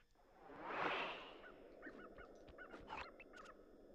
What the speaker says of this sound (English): let's just watch out for the ducks